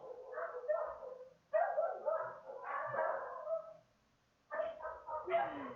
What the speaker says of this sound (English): please excuse the barking of the dogs